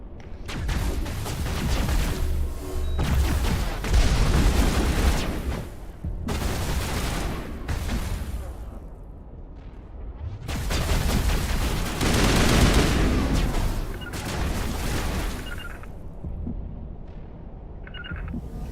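Dense, loud bursts of gunfire from Mass Effect Legendary Edition combat, with blasts and booming explosions in heavy waves and only brief lulls between them.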